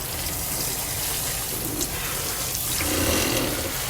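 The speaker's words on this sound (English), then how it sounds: "sprinkle on the water" Water splashes and pours steadily onto soil around transplanted vegetable plants, a continuous close spray with a slight surge near the end.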